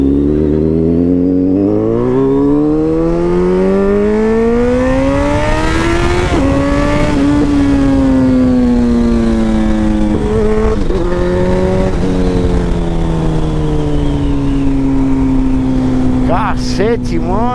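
A Suzuki B-King motorcycle with a stainless steel exhaust roars loudly up close, its engine revving and shifting through rising and falling pitch sweeps as it accelerates, with a brief rattle near the end.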